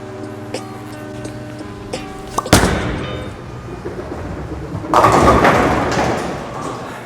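A Storm Ion Max Solid bowling ball lands on the lane with a sharp thud, rolls with a low rumble, then crashes loudly into the pins a few seconds later as the clatter fades out.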